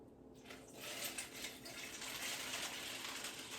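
Tap water being poured into a dish of pasta for cooking in a home kitchen, a steady close gushing pour that starts after a brief quieter moment and continues without pause.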